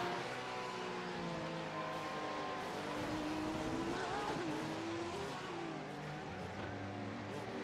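Race car engines accelerating in iRacing at Sebring, with Porsches battling, a steady droning roar with rising and shifting engine tones, moderately loud and continuous throughout.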